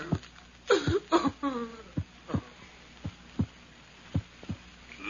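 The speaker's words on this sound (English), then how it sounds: "Listen to the heart beat its last beats." A heartbeat sound effect in a 1951 radio drama of The Tell-Tale Heart thuds in a slow, regular series of low beats, with a dramatic gasping voice overlapping the first few beats.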